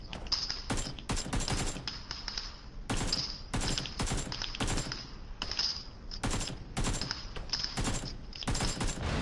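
Bursts of rapid automatic gunfire crackle in the battle royale game PUBG, repeated volleys in quick clusters separated by brief gaps, fairly close and sharp, with no talking.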